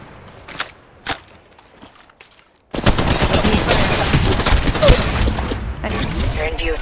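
Machine gun fire in the mobile shooter Apex Legends Mobile starts after a few isolated clicks and a brief silence, then becomes sustained rapid bursts that stay loud and close to the end.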